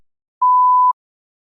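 One pure electronic beep from a TOEFL speaking test, steady and mid-pitched, sounding for roughly half a second with silence before and after.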